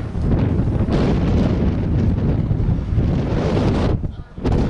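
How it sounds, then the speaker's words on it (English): Heavy wind batters the microphone in a steady low roar for several seconds at a cooling tower rigging site, easing briefly toward the end. "It's a little windy"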